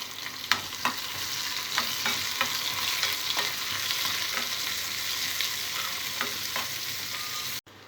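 Onions frying in a pan with green chillies and curry leaves produce a steady, close crackling sizzle, punctuated by a series of sharp spatula scrapes and taps, then cut off abruptly at the end.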